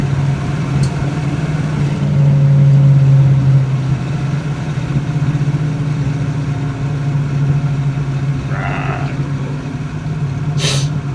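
A 1968 Ford Mustang drives along a bumpy road, its engine a steady, fairly loud mid-to-low drone heard from close by with slight swells, and a few faint clicks and rattles near the end.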